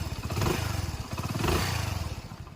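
A Hero Honda Splendor motorcycle engine idles after a complete service, giving a steady, close, rhythmic thumping beat with a slight rise and fall in loudness.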